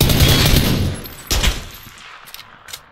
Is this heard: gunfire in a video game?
yes